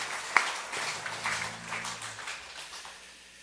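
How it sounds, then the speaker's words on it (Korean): A church congregation applauds during an Easter Sunday service. The soft, scattered clapping starts with a sharp clap, fills the room briefly and then tapers off. "우리 부활하신 주님께 영광의 박수를 다시 한번 힘께 드리겠습니다."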